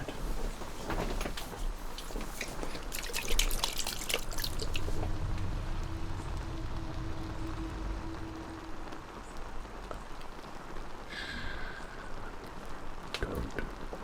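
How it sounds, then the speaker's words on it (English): Natural spring water being poured or trickled in during an ASMR barbershop shave, heard as soft splashing and dribbling with a few close, brighter drips, gentle and intimate, without talking. "I'm going to just add a little bit of water from our natural springs here"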